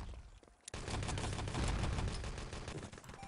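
Rifle grenade blasts and gunfire in the online shooter Enemy Territory during a competitive match, a dense burst of loud explosive reports after a short quieter lead-in, sustained for a few seconds.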